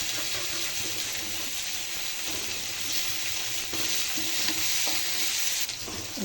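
Onions frying in a pan with garlic, a steady close sizzle with stirring scrapes running throughout, no voices.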